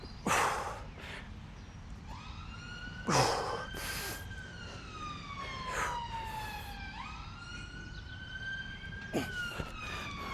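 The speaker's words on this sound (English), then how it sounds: "Another ambulance." An ambulance siren passes outside during a home workout, its wailing tone rising and falling in long sweeps, fairly distant and muffled, with a few sharp knocks nearby.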